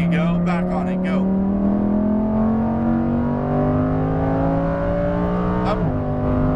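A Lamborghini Huracan Performante accelerates hard on a race track, its engine note rising steadily through the revs before a quick gear change drops the pitch, close and loud beneath a voice giving driving instructions.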